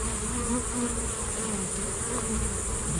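A dense, steady drone of many honey bees buzzing close by at an open hive frame of brood, continuous and loud without pause.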